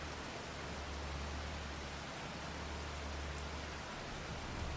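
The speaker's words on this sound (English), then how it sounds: "So rain does help flood the field crazy." Steady rain hisses in Farming Simulator 25, falling over a flooded rice field as an even, soft wash of noise with no pauses.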